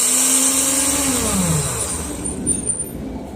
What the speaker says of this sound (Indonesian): lalu kita mulai proses memblender ya. Nah, kita blender sampai halus.